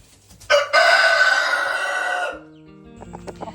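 A loud, drawn-out chicken call rings out close by for about two seconds, followed by softer scattered clucks.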